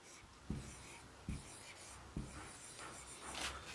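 Chalk or marker taps and strokes on a board during a biology class, three distinct knocks with faint scratching between them, quiet and close.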